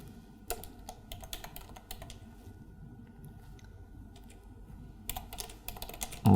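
Typing on a computer keyboard, quiet clusters of key clicks near the start, around the middle and again near the end, with softer taps in between.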